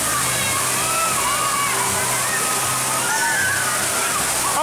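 Water at a theme park water show at Phantasialand rushes, splashes and sloshes loudly and continuously, with voices chattering throughout over the steady spray.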